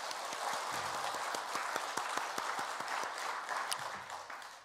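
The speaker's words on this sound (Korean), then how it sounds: "우리 박수 한번 할까요?" A church congregation at a Sunday afternoon service applauds, with steady, dense clapping that carries on without a break for several seconds before easing off toward the end.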